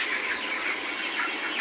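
Broiler chickens in a raised-floor poultry shed, about 24 days old, make a steady, dense chorus of soft clucks and chirps that continues through the whole stretch with no one talking.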